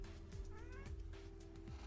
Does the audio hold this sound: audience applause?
no